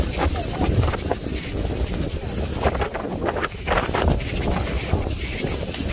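Strong wind buffets the microphone outdoors beside the Lake Superior Marine Museum, a loud continuous roar with gusty swells and no pauses.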